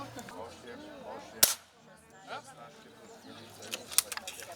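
A single sharp gunshot cracks at a seniors' shooting contest, loud and close, amid quiet talk, followed later by a few fainter snaps and knocks.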